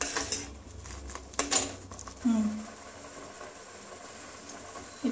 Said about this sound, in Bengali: এখানে বেশ অনেকক্ষণ ধরে নাড়তে হবে